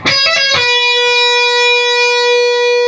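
A few quick legato guitar notes, hammered and pulled off, lead into one long sustained distorted note that rings out loudly on its own.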